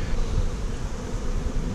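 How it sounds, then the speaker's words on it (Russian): Bees buzz steadily right at a beehive on an apiary during acacia flow, a dense, close, continuous hum with no talking. "Вот пчела прямо на улье."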